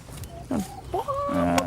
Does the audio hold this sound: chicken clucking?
yes